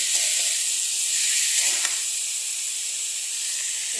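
Shrimp with ginger paste and salt being stirred in a pan for echor chinri, a constant loud steamy hiss and sizzle with a few soft scrapes from the stirring.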